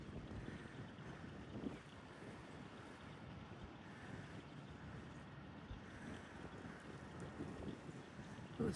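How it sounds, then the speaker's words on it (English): Strong wind gusts outdoors in a steady, loud roar that buffets the microphone, with rumbling low-end noise and brief harder gusts near the start and end. "Oh, it's so windy here."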